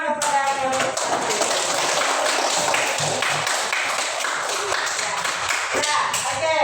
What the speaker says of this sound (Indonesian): beri tepuk tangan kepada kelompok 1